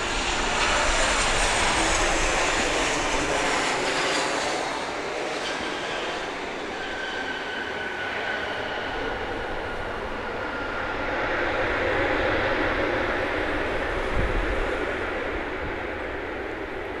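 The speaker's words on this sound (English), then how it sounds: "here comes our next American aircraft" An American Airlines jet passes at an airport, a loud broad roar with whining engine tones that swells and eases over the whole stretch, no talking.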